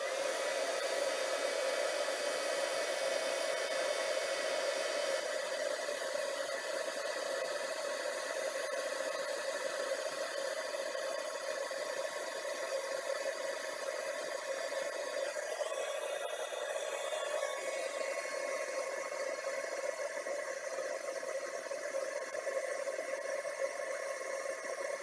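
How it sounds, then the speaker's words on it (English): Heat embossing tool blowing hot air over a birthday card sentiment, a steady close whooshing hiss like a small hair dryer running continuously without pause. "I'm going to plug in my heat tool, and we will get this all embossed"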